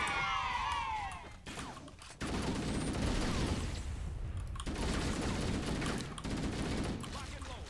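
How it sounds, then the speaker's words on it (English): Assault rifle from the Halo video game firing in sustained bursts, dense rattling gunfire filling most of the stretch with brief gaps between volleys, loud and close. "I love the way the assault rifle fires."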